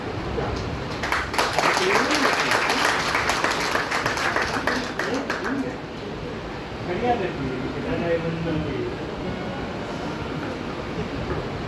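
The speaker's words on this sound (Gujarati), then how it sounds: "જોરદાર તાળીઓ થઈ જાય" An audience at a Gau Katha religious gathering applauds vigorously for several seconds, then the clapping fades into a voice speaking over a hall's ambient murmur.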